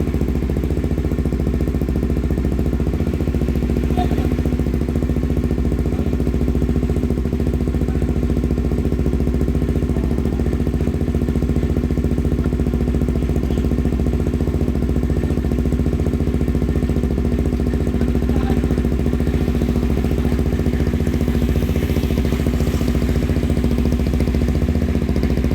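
A Bajaj Dominar UG 400 motorcycle engine idles steadily, close by, with a constant low rumble and even throb that never changes pace.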